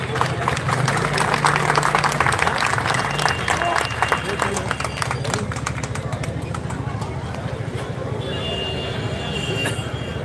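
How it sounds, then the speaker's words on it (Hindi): An audience at a Bhojpuri birha performance applauds with dense, sustained clapping that stays loud and even from start to finish, with a faint tone under the noise. "जोरदार ताली बजा करके आप लोग सम्मान करें।"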